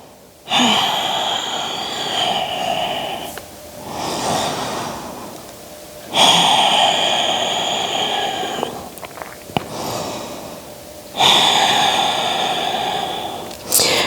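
Slow, deep breaths drawn in and let out during a still yoga hold, three long cycles of loud, close breathing with rising inhales and soft exhales, no talking.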